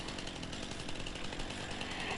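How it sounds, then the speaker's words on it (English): In the game Farming Simulator 19, a chainsaw cuts down hedges with a short, loud buzzing engine drone that holds steady throughout, nobody speaking. "You cut them down with a chainsaw."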